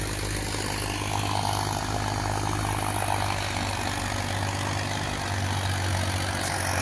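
A Massey Ferguson 1035 DI 40 HP tractor engine runs steadily nearby, a loud, constant diesel drone with a low throbbing rumble and no pauses.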